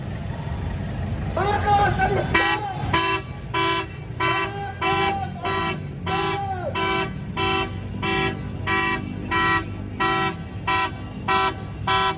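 Car horns honk in a regular repeating pattern amid street traffic of motorbikes and cars on EDSA during a crowded gathering of supporters, loud and close over a continuous roadside rumble, with a voice talking underneath.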